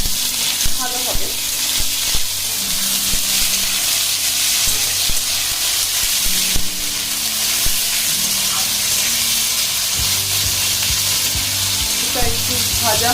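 Chopped onion frying with meat in a pan sizzles steadily and loudly throughout, with occasional stirring clatter and no talk.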